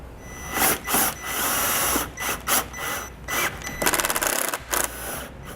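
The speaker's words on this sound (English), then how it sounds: "I'm going to grab a couple self-tapping screws and I'm going to go directly into the bumper" Power drill driving self-tapping screws through two layers of a plastic vehicle bumper, with a roughly five-second burst of close, gritty whirring and clicking in short spurts and stops.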